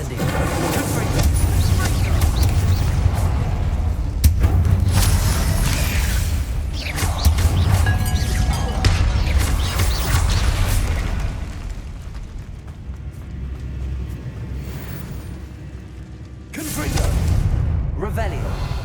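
Bombarda, Expelliarmus and Incendio spells are cast in the video game Hogwarts Legacy, giving loud booming blasts, whooshes and crackling bursts that come in waves amid steady game ambience, with spoken voices between the effects.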